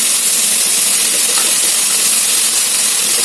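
Boiled sorghum goes into a hot pan with ghee and tomato, giving a loud, steady hiss and sizzle that holds without break, with no talking.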